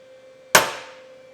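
A cylinder sleeve is driven into a Kubota diesel engine block and hits bottom with a single sharp metallic clang that rings briefly and fades, heard close up over a faint steady hum.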